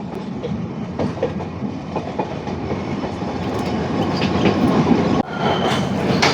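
A passenger train bound for Ooty rumbles through a tunnel, a steady loud roar of wheels and carriages that swells gradually, with a faint rhythmic clatter.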